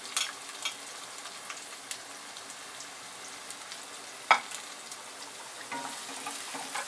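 Onion frying in a pan until reddish, with bitter gourd added, a soft, quiet sizzle with a few light clicks and one sharper utensil tap midway.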